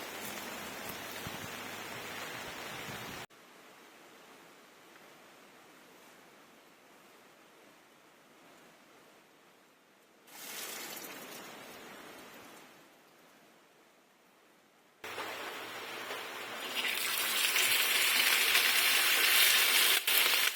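Steady rain hisses at a car-camping campsite, fading in and out across the stretch. It drops to a quieter patter in places before returning heavier and louder near the end.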